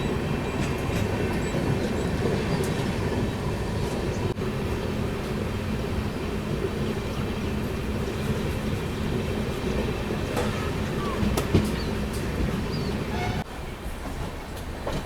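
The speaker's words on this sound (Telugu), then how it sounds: "మనమైతే ఇప్పుడు తిరుపతి స్టేషన్కి అరైవ్ అవుతున్నాం" Express train rumbling steadily into Tirupati station, with continuous loud wheel and carriage noise, faint clickety-clack, and brief metallic squeals near the end; no talking.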